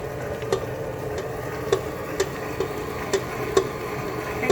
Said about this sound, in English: with the vanilla and whatnot, you go ahead and mix that in now.